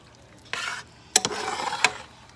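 White wine cooking down in a pan for shrimp scampi, with bursts of sizzling and a few clinks of a utensil stirring against the pan, close and fairly quiet.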